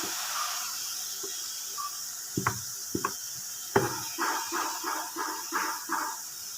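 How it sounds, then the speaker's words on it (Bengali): Jhuri bhaja batter dropped into hot oil over medium-high heat sizzles in a steady hiss, with a few sharp ticks and a run of rhythmic crackling bursts close by, no voices over it. "তেলটা গরম হয়ে গেছে আমি এবার এইটা এরম করে করে ছাড়তে শুরু করব"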